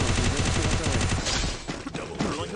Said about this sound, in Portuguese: Tem alguém longe atirando.